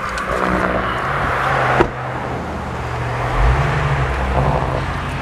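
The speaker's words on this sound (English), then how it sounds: "There's a car coming." A car rolls along a rural road near an old forest farmhouse, its engine and tire noise holding a steady moderate level and swelling slightly as it draws closer.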